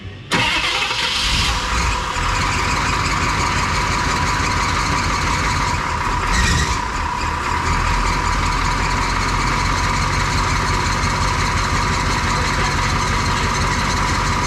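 A lifted squarebody truck's engine idles close by, loud and steady throughout, with a short swell in the middle.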